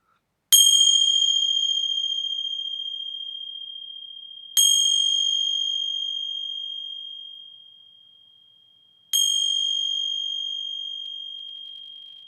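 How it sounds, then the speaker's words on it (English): Three separate bell strikes about four seconds apart, each a loud, sharp ring with a clear pure tone that hangs on and slowly fades, heard alone with no talk. "I'm going to ring some bells. They might be a little loud."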